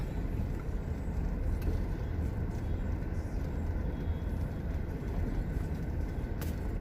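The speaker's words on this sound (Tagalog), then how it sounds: "napakatindi ng traffic dito" Heavy, congested road traffic on the approach to NAIA Terminal 3 on a Friday afternoon, a steady dense rumble of engines and tyres heard from inside a vehicle, continuous and low without talk.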